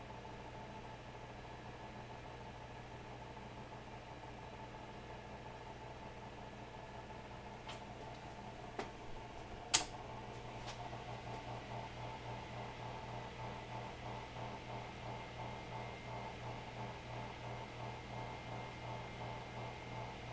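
A worn 1988 Kuo Horng 6-inch desk fan, model KH-06R2, drones with a low steady motor hum and faint whir; a couple of clicks sound midway, then a light rhythmic rattle continues.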